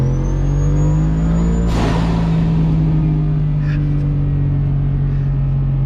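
Turbo Ford F150 holding about 4,500 RPM on a brake boost, a loud, steady high-revving engine tone with a sharp burst of turbo hiss early on, heard close up with no talking.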